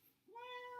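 A cat gives one short, rising meow, quiet and close, after a brief hush.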